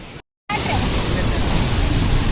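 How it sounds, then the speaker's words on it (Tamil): Rushing water near a waterfall roars as a dense, steady broadband wash, loud and close, after a short silent gap at the start. "இந்த இடத்துல இருந்து தண்ணி சவுண்டே கேட்கறதுக்கு ரொம்ப பயமாக இருந்தது"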